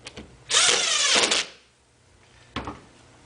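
Screwing an XTB rooftop support into position on top of a Blox, heard as a close, loud burst of power-driver whirring with ratcheting clicks, a pause, then a shorter second burst.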